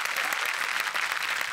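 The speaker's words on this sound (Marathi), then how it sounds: "संदीपसाठी खरंच जोरदार टाळ्या." Studio audience at the Marathi comedy show Chala Hawa Yeu Dya bursts into brisk, loud applause for Sandeep, a short dense patter of clapping.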